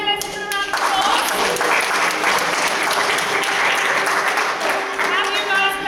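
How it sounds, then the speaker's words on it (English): A crowd applauds steadily for several seconds, dense clapping filling the room at full volume, with a voice briefly audible near the start. "let's give them a round of applause"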